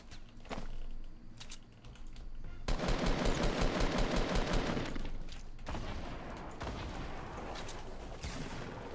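Rapid bursts of automatic gunfire in the Fortnite video game, a sustained rattling volley in the middle flanked by shorter shots, with players talking in between.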